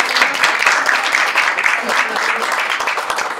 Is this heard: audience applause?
yes